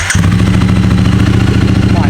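A Triumph Street Twin motorcycle on its stock exhaust fires up and settles into a loud, steady, throbbing idle right beside the listener.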